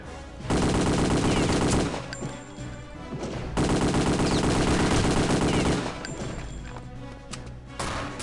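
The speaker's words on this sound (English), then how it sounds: "Tommy gun" A Tommy gun fires in Return to Castle Wolfenstein in long, loud, rapid bursts, the rattling strings separated by brief pauses, dense and close over game background noise.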